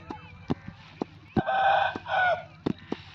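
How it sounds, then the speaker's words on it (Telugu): Several short loud bursts, then two longer bright calls that fit rooster crowing, with a faint layered droning underneath. "కోళ్ళు అయితే విపరీతంగా కూస్తున్నాయి"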